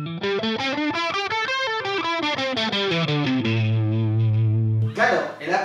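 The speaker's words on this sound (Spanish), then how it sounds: "hace una especie de efecto de chorus, una desafinación pequeña que genera este timbre característico" Distorted electric guitar playing a pentatonic lick with tremolo bar bends, giving a slightly detuned chorus-like shimmer; a stepping melodic run settles into a long held note, loud and alone.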